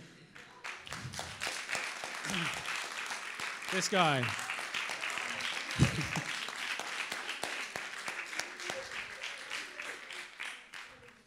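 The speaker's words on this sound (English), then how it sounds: "Please, please give him a round of applause." An audience claps in sustained applause at a talk about mental health, dense and steady throughout, with a man clearing his throat and a few short spoken words over it.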